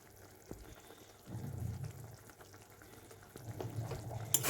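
Cabbage with bhetki fish head fries dry in a pan, a soft low sizzle that swells at intervals, as if stirred, with faint clinks and no talking.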